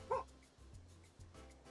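Pet dog Myron gives a short yip or bark near the start, then goes quiet under a low background hum, with faint vocal sounds later and no clear speech.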